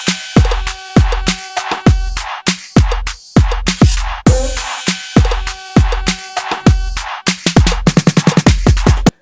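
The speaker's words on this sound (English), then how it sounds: "drop drums that sound like this." Punchy twerk-style drop drums programmed in FL Studio hit alone and close: heavy kicks, snappy claps and hats in a bouncing rhythm, ending in a rapid roll.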